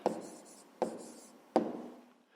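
Pen writing an answer by hand on paper in a fifth-grade maths exercise, three distinct close scratchy strokes spaced evenly apart, each fading quickly, quiet and alone.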